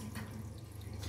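Water runs steadily from a tap in an upstairs bathroom and drains away, a continuous close hiss with a low gurgle underneath and no talking.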